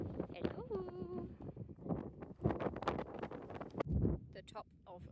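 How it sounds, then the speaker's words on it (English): Strong wind gusts buffet the microphone on the exposed mountain summit of Pen y Fan in Wales, roaring in uneven bursts with loud low rumbles, while a voice speaks briefly near the start. "Oh my god, it's so windy."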